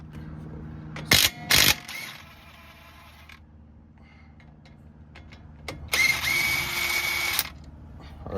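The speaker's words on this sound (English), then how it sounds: "what you need is an impact gun with an 18 millimeter, and we're going to start off by taking off these bolts" An impact gun works brake caliper bolts on a 2007-2013 GMC Sierra 1500 in two short loud bursts, then a longer sustained whir after a quiet gap with faint clicks and handling noises.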